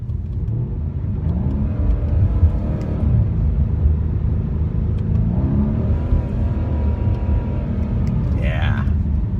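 A Mercedes C63S AMG with a bi-turbo 4-liter V8 rumbles from inside the cabin, the engine note rising and falling through several pulls in a deep, steady drone, with a brief higher whine near the end.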